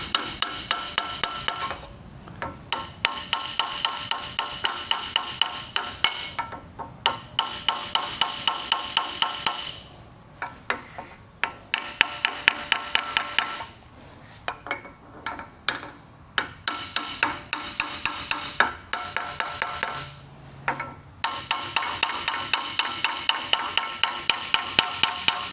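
A hammer pings sharply on a metal wear sleeve fitted to a boat trailer axle spindle, delivering rapid bursts of ringing metallic strikes with short pauses between, loud and close.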